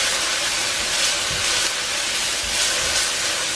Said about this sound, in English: To the bottom of my wok, I'm gonna go ahead and add a nice heaping tablespoon of minced garlic